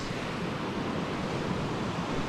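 Steady broadband rush of water from a backcountry creek near Nordegg, continuous and fairly close, with no voices.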